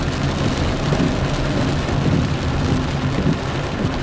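Steady rain falls in a town in Alagoas, Brazil, a dense continuous hiss of drops with a low rumbling undertone running evenly throughout.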